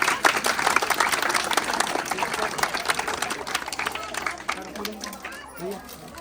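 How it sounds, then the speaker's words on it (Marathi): A group of schoolchildren claps loudly and rapidly together in a room, a dense burst of applause that gradually thins out, with voices mixed in. "टाळ्या वाजवायच्या सर्वांनी जोरदार"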